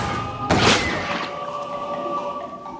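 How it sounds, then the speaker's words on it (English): A torpedo launch in a cartoon-style video game: a sudden dull thump with a burst of noise, then a fading whoosh over steady tonal game music. "Fire the torpedo!"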